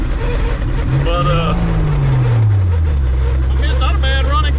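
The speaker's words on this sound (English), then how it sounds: "I mean, it's not a bad running car." A 1959 Edsel Ranger engine runs steadily at close range, a loud low rumble whose pitch rises and then settles back to idle, while someone talks over it.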